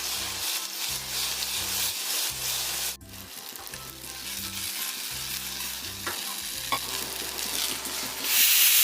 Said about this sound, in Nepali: त्यसमा मैले एक एक गर्दै क्युब गरी काटेको टोफूलाई हालेर फ्राई गर्दैछु।